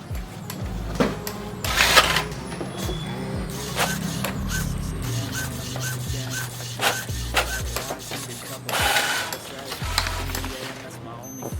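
A Brother DCP-T820W ink tank printer runs a head cleaning cycle with repeated mechanical whirring, rubbing and clicking of its moving parts. Louder bursts come and go over the motor hum while someone talks throughout.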